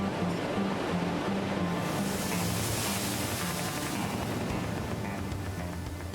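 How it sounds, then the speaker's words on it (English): Ocean waves washing against a shore, a continuous broad rushing surge that swells and eases, with a low droning tone underneath and no voices. "Twice a day, tides rise and fall, and waves constantly lap our shores."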